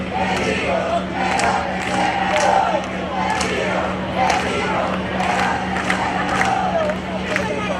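A live concert crowd in Sardinia at an outdoor spring festival show, loud sustained cheering and shouting with rhythmic clapping bursts repeating roughly every half second across the stretch.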